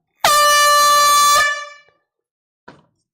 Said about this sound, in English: Time for an air horn.